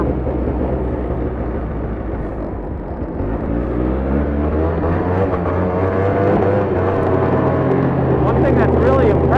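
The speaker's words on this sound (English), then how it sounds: "One thing that's really impressive is this motor. I figured it was gonna be good, but it's got a lot of punch." Arctic Cat Blast snowmobile engine pulls and builds in a broad, steady roar, rising in pitch as it accelerates, with someone talking over it.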